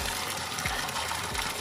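Cold spring water gushes steadily from a spring spout while clothes are being washed outdoors, a loud continuous rushing stream heard up close.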